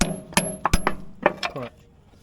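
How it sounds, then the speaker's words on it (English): Metal drift punch being struck while replacing a bulldozer top roller, a string of sharp irregular metallic clinks and taps, close and fairly loud, with short gaps between hits. "We'll use our drift punch."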